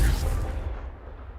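A Confringo blast spell explodes in Hogwarts Legacy: a heavy low boom hits at once and then rumbles away over about a second.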